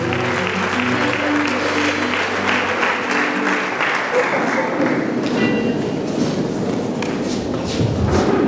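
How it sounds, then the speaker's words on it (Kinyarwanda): Audience applause at a gospel concert: a dense, steady roar of clapping fills the hall, starting over sustained musical tones that fade as the clapping swells and carries on alone to the end. "muhe Imana amashyi mu izina rya Yesu"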